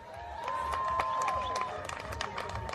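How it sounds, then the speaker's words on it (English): Crowd applause with scattered cheering for fighters at a boxing event, a steady wash of clapping that swells and then thins out, with a voice ringing over it. "Do you think the fighters deserve a big round of applause?"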